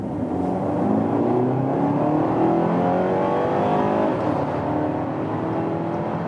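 A 2020 BMW X1 M-Sport xDrive with an automatic gearbox pulls away in sports mode, its engine note rising steadily and loudly with shifting harmonics over a continuous road roar.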